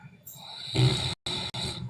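A man snores loudly nearby, one broad rasping breath drawn out over about half a second, then continues steadily with a brief silent break.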